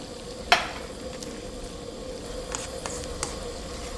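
Pork belly stir-fry sizzling softly in a pan, with one sharp splash as water is poured in, then a low steady hiss and a few faint clinks, alone without voices.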